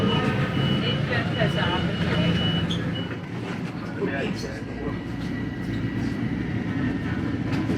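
The AirTrain from JFK Airport rumbles steadily along the tracks, heard from inside, with a continuous low roar and rhythmic clatter of wheels.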